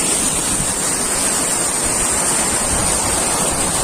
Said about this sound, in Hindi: देखो ये पानी यहाँ से बह के जाता है वहाँ नीचे